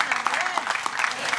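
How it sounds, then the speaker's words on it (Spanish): A church congregation claps together in a lively burst of applause, close and bright with rapid uneven hand claps, mixed with some crowd voices. "Den un aplauso al Rey de Reyes y Señor de Señores."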